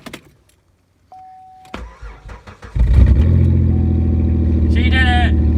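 A $500 Pontiac racecar with a damaged power steering line cold-starts at 26 degrees: a brief chime and clicks, then the starter cranks in uneven bursts before the engine catches and settles into a loud, rough, steady idle, close up.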